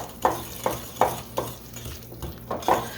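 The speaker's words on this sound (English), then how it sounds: "Now we're just going to stir this up." A spoon stirs Morning Glory muffin batter in a bowl, giving a steady rhythm of about seven soft scraping strokes, close and clear with no talk.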